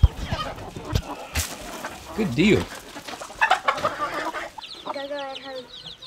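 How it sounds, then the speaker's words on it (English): Hens clucking and chattering in a backyard coop on a farm, a run of busy calls mixed with a person's brief speech, with a clearer rhythmic clucking burst near the end. "this is the chicken that had the babies in the horse trailer"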